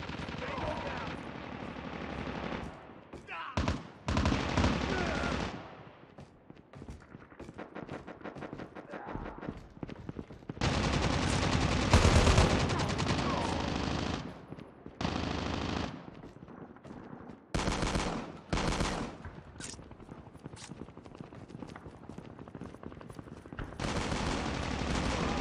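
Rapid SMG bursts from Call of Duty Mobile multiplayer, loud and close, coming in repeated clusters of fast automatic fire with short gaps between volleys across the whole stretch.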